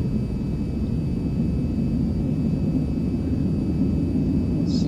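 Jet engine roaring steadily during takeoff in the VTOL VR flight game, a loud, continuous low rumble that holds even throughout with no speech over it.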